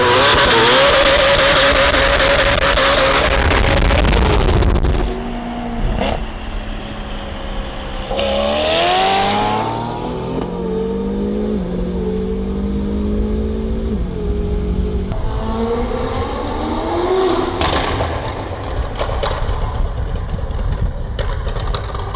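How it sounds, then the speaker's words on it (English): A tuned Ferrari revs and accelerates hard with its tires spinning, the engine roaring loudly and climbing through rising gear pulls with sharp shifts, close and dominant throughout. "Tires are spinning. Can't hook up."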